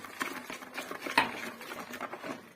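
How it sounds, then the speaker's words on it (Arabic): Cake batter of beaten eggs, sugar and lemon juice is mixed in a bowl, with quick, continuous stirring and light clinks and scrapes of a utensil close up. "وغنخلطوا هاد الخليط هذا"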